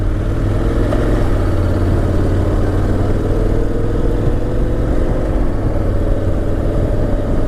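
A 2022 Honda X-ADV scooter's engine pulls away smoothly and gently, giving a loud, steady, close mid-pitched drone with a rumbling low end that holds even throughout with no sharp revving.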